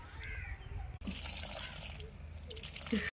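Water poured onto the soil of a potted rose plant, a steady splashing wash that starts abruptly after a brief pause and runs on, with faint talk underneath.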